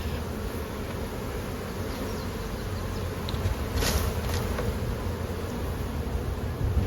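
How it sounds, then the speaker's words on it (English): Honey bees buzz around a hive opened for brood chamber work. A dense, continuous drone sits close, with a few louder bees passing near during the middle, and no talking. "We've got some bees on the side walls."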